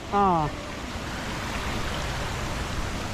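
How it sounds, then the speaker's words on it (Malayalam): A modest monsoon waterfall and stream near Aruvikkal temple, flowing low after a few dry days. A steady broadband rush continues at close range after a brief voice-like tone at the start. "അവിടെ ഒരു വെള്ളച്ചാട്ടം അത്ര സ്ട്രോങ് ആയിട്ടല്ല ഇപ്പം"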